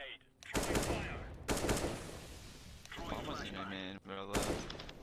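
A Galil rifle in the Counter-Strike video game fires in several short automatic bursts, fairly quiet and spaced apart, with a voice talking between the shots.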